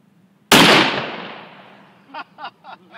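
A single loud shot from a Smith & Wesson 460 revolver fired outdoors cracks sharply and then rolls away in a long echoing decay, followed by a few short voice sounds.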